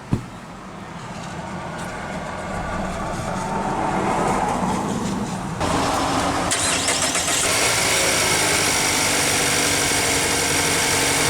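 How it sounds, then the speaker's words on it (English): A 2024 Mazda CX-5 2.5 with push-button ignition starts up: a sharp click, the starter whirring, then the engine catches and settles into a steady, fairly loud idle hum that carries on to the end. "let's go ahead and start the engine. And it of course has push-button ignition"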